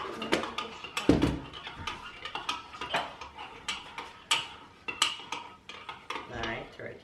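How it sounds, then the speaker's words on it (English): A utensil clinks and scrapes against a cup as a mix is stirred, giving a rapid, irregular series of light taps and rattles close by, with no talk. "Alright, stir it in the cup now."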